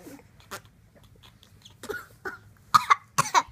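A few short coughs from a person indoors, soft at first and then louder in a quick pair near the end, with a quiet background.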